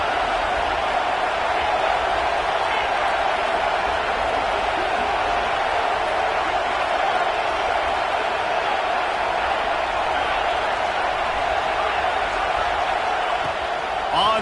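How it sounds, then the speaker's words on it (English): A stadium crowd roaring in the College Football 26 video game, a dense, steady wall of loud crowd noise that holds unbroken throughout, with no clear speech on top. "Listen to this crowd just shaking the girders of this place"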